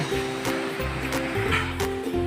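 Strong river current rushing past, a loud, continuous turbulent wash of water with bursts of splashing, heard up close.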